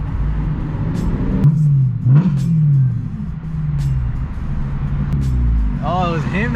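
A Honda car engine rumbles and revs up and down amid loud street noise, with people talking over it.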